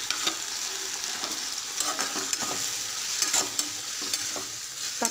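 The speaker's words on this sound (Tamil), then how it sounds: "தக்காளி நல்லா வணங்குற அளவுக்கு வணக்கி விட்டுக்கலாம்" Onion, tomato and green chillies sautéing in a pan for bhel puri, a soft continuous sizzle broken by a series of sharp spatula scrapes and taps, close by with no voices.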